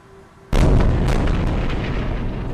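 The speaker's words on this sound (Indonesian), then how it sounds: "Ledakan mengguncang kota Gaza ketika pasukan Israel melancarkan serangan balasan ke Gaza" A sudden loud blast from Israeli military strikes on Gaza City erupts from quiet, then a heavy rumbling roar with scattered bangs sustains throughout.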